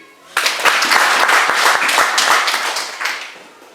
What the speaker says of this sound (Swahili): Si hata mimi unipigie.